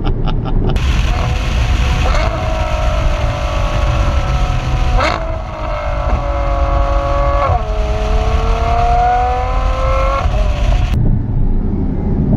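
A Ferrari F12 Berlinetta's V12 engine pulls hard while driving, loud and close, its rising tone climbing through the gears with brief dips at each shift before revving up again, sustained throughout.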